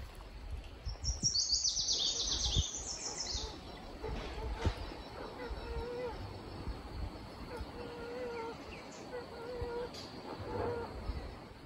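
Birds sing outdoors near a fishing spot, with a burst of high chirps early on and fainter calls over soft ambient noise while a person talks.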